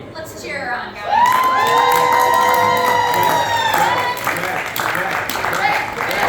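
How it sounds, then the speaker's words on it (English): A crowd cheers at a convention contest, a loud sustained swell of shouting and whooping voices that rises suddenly and holds, with some clapping mixed in. "Let's cheer her on, guys."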